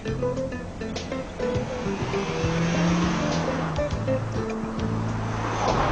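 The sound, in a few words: Mercedes C-Class car driving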